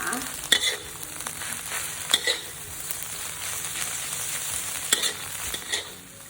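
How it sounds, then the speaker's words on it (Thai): Instant noodles being stir-fried in a pan with their seasoning sauce, giving a continuous close sizzle broken by a few sharp clinks and scrapes of the utensil against the pan, with no voices. "แล้วก็ผัดให้เข้ากันค่ะ"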